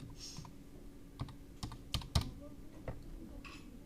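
Keys on a computer keyboard are tapped sparsely while a table is built in MS Word: a handful of faint, separate clicks spread unevenly over a few seconds, with no talking.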